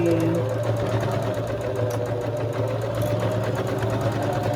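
A sewing machine runs a straight stitch down the side of a fabric tote bag, a steady close mechanical whirr with a fast regular clatter, continuous and alone for several seconds.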